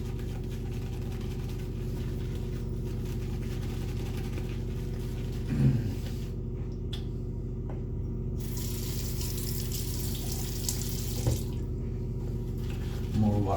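Tap water runs steadily into a sink while shave soap is loaded with a brush, a continuous close wash of flow with a couple of brief clatters; no one speaks over it.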